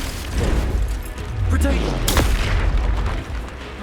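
Confringo explosive spells blast in Hogwarts Legacy on PS5, heavy booming impacts in quick succession with a sharp crack midway, while a voice calls out spell names.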